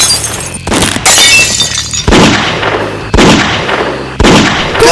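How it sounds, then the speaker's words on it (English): Comic-dub gunshots ring out as four sharp, loud cracks spaced about a second apart, each followed by a ringing, shattering decay, with no talking. "Gunshots!"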